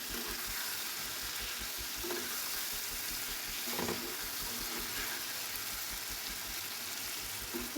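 Steady, close sizzle of food frying in a cooking pan, a continuous crackling hiss with a few soft stirring knocks and no talk.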